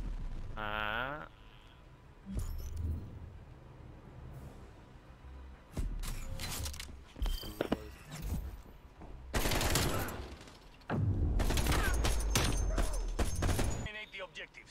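AK-47 bursts ring out in a Call of Duty Cold War match, loud clustered volleys of rapid automatic fire separated by quieter gaps and short single shots.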